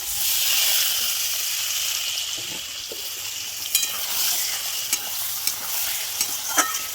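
Pieces of Bombay duck (lote fish), coated in a spice rub, fry in hot mustard oil in a kadai, a loud continuous sizzle with soft stirring and a few sharp pops and spatters, no voices.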